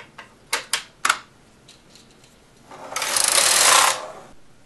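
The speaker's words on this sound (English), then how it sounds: "I'm just going to clip the yarn and drop the stitches right off, catching them with my hand underneath" An industrial knitting machine as the yarn is clipped and the stitches drop off: four sharp mechanical clacks in quick succession, a short pause, then a loud close rushing whirr lasting about a second before it fades.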